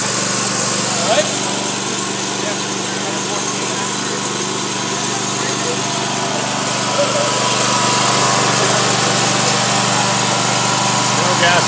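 A 10 kW generator set engine runs steadily and loudly at close range, a continuous droning hum with no break across the whole stretch; voices are faintly present beneath the engine noise.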